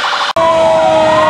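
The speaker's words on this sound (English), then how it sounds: "This is their actual fire engine, maybe?" A fire engine's siren wails loud and close during a Christmas parade in a small mill town, a steady sustained tone after a brief cutoff.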